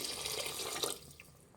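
Water is poured from a glass onto washed rice in a pan for plain pulao, a close, steady splashing pour that thins out toward the end, with no talking.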